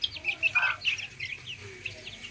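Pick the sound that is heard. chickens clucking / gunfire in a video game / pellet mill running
chickens clucking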